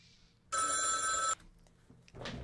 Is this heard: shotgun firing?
no